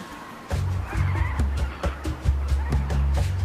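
Birds of the Djoudj bird sanctuary near Saint-Louis, Senegal, a dense chorus of loud clucking and gobbling calls repeating in quick bursts, close and continuous.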